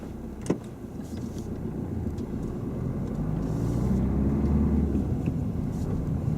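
A car pulls away and drives on along a road during a driving lesson, its low engine rumble swelling steadily and staying close and continuous, with no talk over it.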